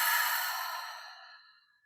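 A single slow, breathy exhale during guided meditation breathing, close and soft, gradually fading away over about two seconds with no talking.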